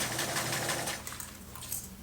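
Sewing machine running steadily as it stitches a simple hem into a fabric backpack extension collar, a continuous close whirring hum that eases slightly toward the end.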